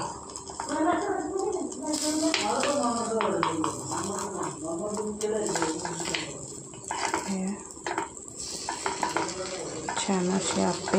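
Appe dumplings are flipped in a sizzling appe pan, with light metallic scraping and clinks against steady frying hiss under continuous talking.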